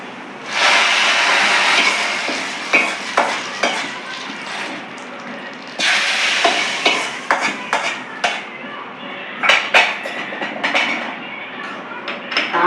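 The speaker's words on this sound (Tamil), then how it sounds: "தாளிச்சதை சாம்பாரில் ஊற்றிக்கலாம்." Hot tempering hits a pot of Tirunelveli drumstick sambar with a loud burst of sizzling that fades, then sizzles up again, mixed with close clinks of a metal pot and spoon stirring.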